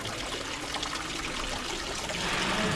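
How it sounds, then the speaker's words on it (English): Water trickles steadily from an old fountain in a Capuchin convent in Querétaro, a continuous close splashing and dribbling with no voices over it. "I have a great deal of respect for these old fountains"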